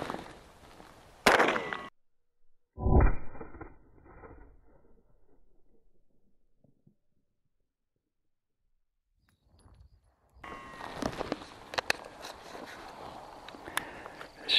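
A CZ Scorpion Evo fires during a fire burn test, giving one sharp, loud shot near the start, then a second impulsive burst with a decaying tail, a long quiet gap, and dense crackling and rustling noise toward the end.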